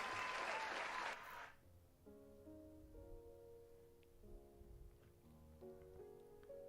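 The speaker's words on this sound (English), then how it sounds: "Let's keep the applause going." A short burst of dense applause, loud and close, cuts off after about a second and a half and gives way to soft electronic tones during a live trading stream.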